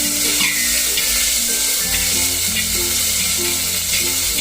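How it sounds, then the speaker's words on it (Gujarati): Water hisses and sizzles in hot tempering oil for a Gujarati gathiya shaak with buttermilk, a loud, steady frying crackle that runs the whole time with faint tonal sounds beneath. "તો અડધો ગ્લાસ જેટલું પાણી નાખી દીધું છે"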